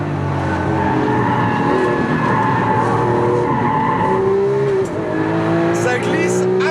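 A Lamborghini Aventador braking hard on ceramic brakes, its loud engine droning steadily with a rising tire squeal near the end as a voice talks over it.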